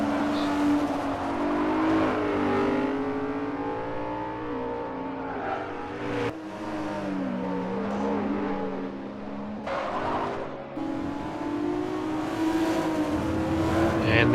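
BMW race car in Forza Motorsport 4 during a circuit race, its engine droning loud and close throughout with shifting revs and gear changes, brief dips and surges, no talk.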